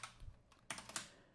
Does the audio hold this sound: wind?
no